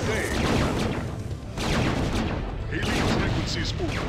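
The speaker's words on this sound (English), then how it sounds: "Engage. Make it happen. Yamato cannons." Yamato cannons fire in StarCraft, a Terran mission, with heavy booming blasts and crackling explosions that roll on without a break, loud and dense.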